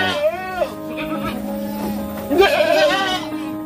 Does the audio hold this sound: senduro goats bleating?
yes